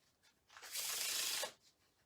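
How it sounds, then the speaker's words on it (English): Playing cards are riffle-shuffled in one quick burst of crisp, rapid flutter lasting under a second, close and moderately loud, with faint handling rustles before and after. "let me just give this a couple of shuffles"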